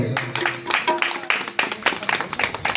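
Congregation clapping at a Christian worship service, with several loud, rhythmic bursts of hand claps and voices mixed in, close and irregular over a few seconds.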